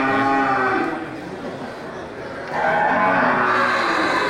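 Cattle low loudly at the Grogol animal market, two long, drawn-out moos close by, with faint market background.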